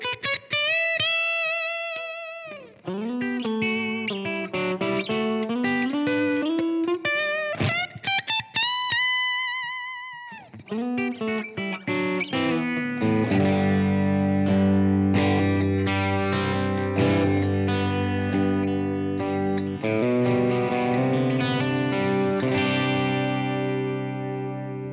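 Electric guitar played through a Blackstar AMPED 1 amp pedal set to UK voicing with EL84 tube response and reverb, tuned toward a Vox AC15 tone: overdriven chords and single-note lines ring out loud and continuous, with sustained notes and reverb tails.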